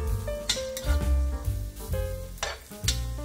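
Onions sauté in a pan for a beef stew stroganoff, giving a steady sizzle with a few scrapes and clinks from stirring, while a tonal background hum runs underneath.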